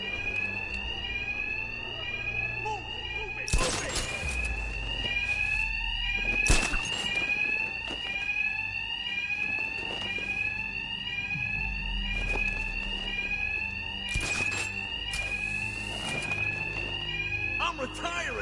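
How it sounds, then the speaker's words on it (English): Alarms blare in the Batman Arkham Knight video game, a rapid repeating electronic warble sounding continuously while sharp impacts and thuds punch through at intervals and voices talk underneath. "these thugs can't hear a thing over the alarms"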